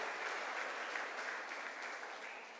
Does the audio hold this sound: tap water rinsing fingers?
no